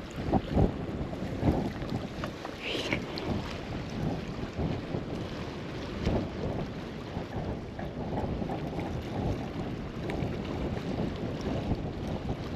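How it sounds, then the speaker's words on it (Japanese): Strong, gusty wind roars across a harbour breakwater at Tateyama while fishing, with steady buffeting and rumbling microphone wind noise throughout and faint water movement beneath. "ああきつい、えぐいなこの風。"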